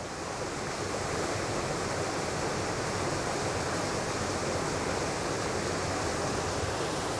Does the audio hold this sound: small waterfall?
yes